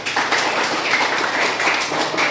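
A classroom group claps for the student representing group 1 after a presentation. The clapping is continuous and fairly loud, with sharp overlapping hand strikes in an uneven rhythm.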